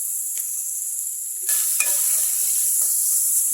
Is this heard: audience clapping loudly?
no